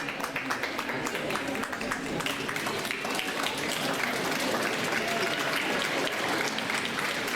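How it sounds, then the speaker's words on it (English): Audience members at a high school technical honor society induction ceremony stand and applaud their families, a sustained dense round of clapping filling a large room, with some voices underneath. "stand up and turn around and clap and thank your family members who are here"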